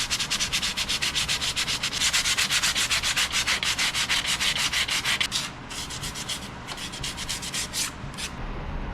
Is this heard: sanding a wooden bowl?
yes